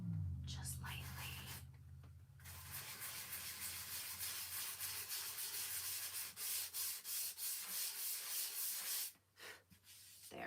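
A small piece from a wooden craft kit is lightly sanded by hand, giving a soft, steady scratchy rubbing close to the microphone, with quiet whispered talk at times and short pauses between strokes.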